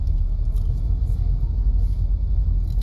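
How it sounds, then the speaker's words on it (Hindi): Car engine of a learner's driving-school vehicle, with a steady low rumble from inside the cabin that stays even for about three seconds and shows no clear rev rise. "थोड़ी सी एक्सीलेटर दियो, रेस दियो थोड़ी सी"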